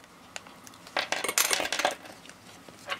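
Scissors snipping the ends off a plastic piping bag for a polymer clay soft-serve ice cream craft, a cluster of crisp, close cutting and crinkling sounds lasting about a second, then a faint single click.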